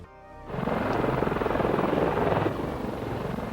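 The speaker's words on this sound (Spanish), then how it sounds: "Dos helicópteros vienen hacia nosotros." Two helicopters approach with a loud, steady rotor chop that kicks in sharply after a quiet start and holds strong for several seconds, with no talking.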